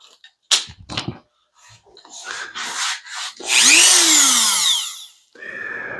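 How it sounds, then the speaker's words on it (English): A Dremel rotary tool bevels material on a CJRB Hectare knife, heard as a close, high whine that dips in pitch under load, following several sharp handling knocks and short scraping bursts. "now I'm going to get the Dremel plugged in"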